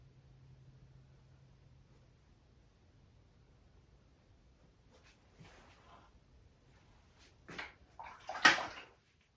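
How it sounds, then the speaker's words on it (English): A paintbrush rinsed in a water cup during an acrylic painting session, heard as quiet swishes followed by a few louder splashing clinks and taps near the end, close up, with no talk. "Just rinsing out my brush here and there"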